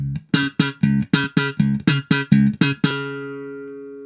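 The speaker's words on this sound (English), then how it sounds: "We're back to position 2. And that's again jazz bass mode" Bass guitar played in jazz bass mode through a Caline Scuru S8B bass amplifier: about ten steady, evenly spaced plucked notes, loud and close, the last one left ringing out, with no talking.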